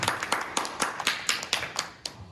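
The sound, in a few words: audience clapping in thanks at a church youth service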